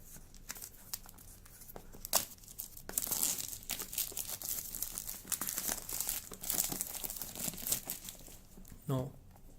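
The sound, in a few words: plastic wrap being removed from a Realme 2 Pro phone box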